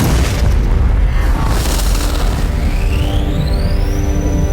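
A loud booming explosion from ship weapons fire in a Doctor Who science-fiction audio drama, with heavy continuous rumble throughout and a rising synthetic whine sweeping upward near the end.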